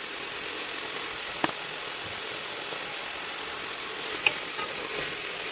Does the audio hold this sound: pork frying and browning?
yes